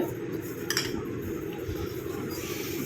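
A homemade face serum mixture being stirred in a bowl, giving soft, steady scraping and light clinks of a utensil against the bowl, continuous and close for a few seconds.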